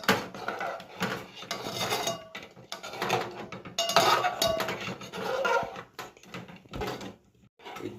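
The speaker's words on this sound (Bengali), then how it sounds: "দুধ এবং চালটা আমি নেড়ে নিচ্ছি, এরকমভাবে নেড়ে নিতে হবে" Milk and rice stirred in a pot for birthday payesh: irregular spoon scrapes and knocks against the metal pot, rising and falling in quick bursts with brief quiet gaps.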